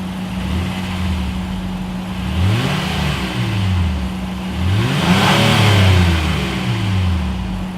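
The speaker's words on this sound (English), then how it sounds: "dual exhaust outlets with chrome tips, so you guys know what we have to do next. As always, here is that exhaust clip." A 2019 Honda Passport's engine revved through its dual chrome-tipped exhaust, loud and close: several rising and falling revs over a steady idle hum, with no talking.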